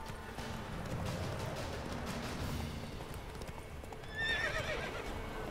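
A horse gallops in The Witcher 3 video game, its hooves clip-clopping in a steady rhythm, with a short whinny near the end over faint background game sounds.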